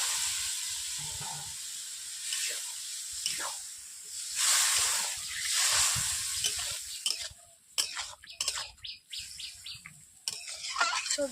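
Mixed vegetables, bottle gourd, carrot, beans and potato, hiss and sizzle in a hot pan, with stirring clatter breaking into scraping bursts midway, fairly close and steady.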